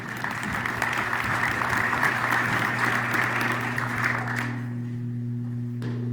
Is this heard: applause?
yes